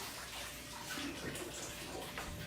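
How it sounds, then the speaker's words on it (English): Hands rinsed under a running kitchen tap, a steady close splashing stream of water with small shifts as the hands move through it, alone with no talk. "Let me rinse my hands."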